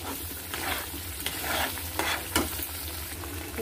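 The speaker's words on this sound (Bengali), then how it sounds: "দিয়ে আমি ভালো করে এটাকে একটু কষিয়ে নেব" Spice masala with cashews frying in a wok, a close steady sizzle with several spatula stirring strokes scraping through, no voices.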